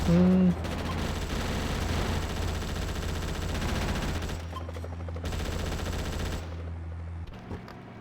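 Gunfire in Grand Theft Auto: Chinatown Wars on the PSP, dense and sustained for several seconds, fading out near the end under a low steady game background.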